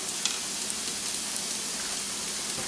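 Fries frying in hot oil for a Cuban frita, a steady dense crackling sizzle throughout with small pops, no talking.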